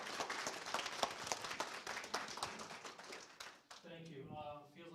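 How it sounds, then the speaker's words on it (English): Audience applause at a genealogy day library session greets a speaker, a dense run of clapping from a room of people that fades out near the end as a voice begins talking. "If everyone would please give him a warm round of applause."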